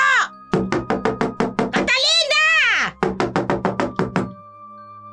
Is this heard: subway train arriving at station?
no